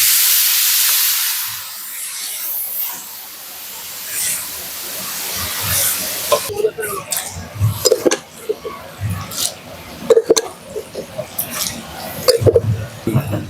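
Garlic paste hits hot oil in a karahi for Bengali chicken chaap, giving a loud hissing sizzle at the start that settles into steady crackle and spitting, with a voice talking over the later part.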